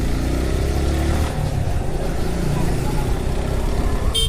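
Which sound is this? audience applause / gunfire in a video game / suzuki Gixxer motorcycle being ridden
suzuki Gixxer motorcycle being ridden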